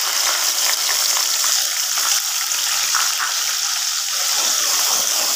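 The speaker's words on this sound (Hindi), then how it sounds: "इसे हल्का सुनहरी होने तक हमने इसको अच्छे तरीके से भूनना है" Two medium onions frying on a tawa pan, a steady close hiss and sizzle that stays even throughout with no talking.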